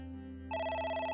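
In the video game AI: The Somnium Files, a phone rings with a bright, sustained electronic tone that swells halfway through over a constant low drone, with no voices.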